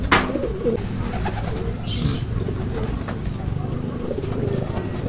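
Racing pigeons returning to their loft, with wings flapping in a brief burst and soft cooing amid steady outdoor background noise, close by.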